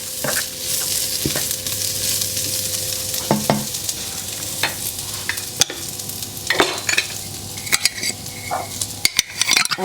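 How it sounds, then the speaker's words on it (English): Spinach wilting in a frying pan sizzles loudly while being stirred, with repeated scraping and clinking of a utensil against the pan over steady frying hiss. "I can see my spinach is wilting a little bit."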